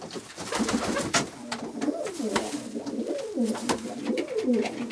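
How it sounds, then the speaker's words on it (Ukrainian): Pigeons coo steadily in low, repeated throaty phrases, close by, with faint rustling and background noise throughout. "Це голуб"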